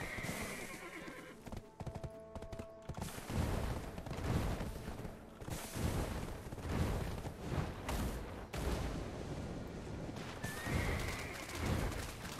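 A horse in the online game Black Desert Online gallops with rapid rhythmic hoofbeats and lets out several neighs, surrounded by busy game effects and sharp bursts, continuous and fairly loud throughout.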